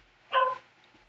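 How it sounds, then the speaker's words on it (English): A dog gives one short, sharp bark at moderate volume from the background, with quiet room tone around it. "I apologize if the dog is loud in the background"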